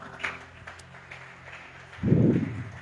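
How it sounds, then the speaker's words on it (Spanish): A church congregation bursts into applause near the end, a dense, close burst of clapping rising suddenly after a quieter stretch of room sound. "Denle un fuerte aplauso al Señor"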